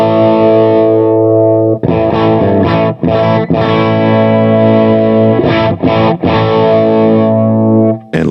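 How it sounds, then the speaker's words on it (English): An electric guitar runs through blended Fender-style and Marshall Plexi distortion, giving loud sustained chords. Brief gaps break the sound as the chords change, and the last one rings out before a short stop. "we're injecting it with some early 59 Fender influenced the Marshall Plexi distorted sound"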